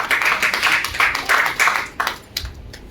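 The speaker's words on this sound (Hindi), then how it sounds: "या तालियां बजा कीजिए।" Audience at a poetry gathering clapping in a few distinct rhythmic bursts, fairly close and lively, fading out toward the end.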